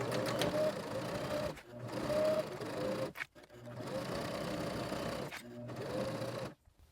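A sewing machine stitches a tote bag lining in several bursts of fast whirring, with short pauses between them as the needle stays down and the work is turned at corners.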